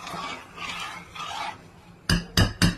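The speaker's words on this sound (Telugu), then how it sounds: "ఇదైతే పిండి వేపుతున్నా నెయ్యిలో" Flour roasting in ghee in a pan is stirred with soft scraping rasps, then three sharp metallic knocks of a spoon against the pan ring out close by in quick succession.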